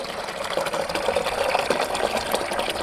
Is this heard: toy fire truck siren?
no